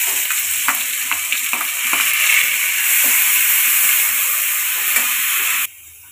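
Taro and potato frying in a pan with onion and garlic give a steady, loud sizzle with intermittent stirring scrapes, stopping abruptly near the end.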